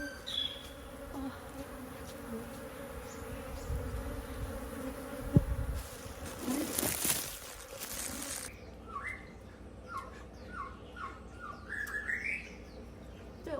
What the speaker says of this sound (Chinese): 这里还有几只，1只、2只、3只蜜蜂，怎么办？